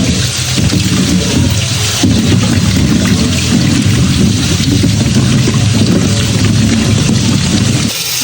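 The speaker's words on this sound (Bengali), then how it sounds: "বড়িগুলো একটু ধুয়ে নিব।" Lentil dumplings (bori) being rinsed in water in a home kitchen, a loud, steady sloshing and splashing that runs for about eight seconds.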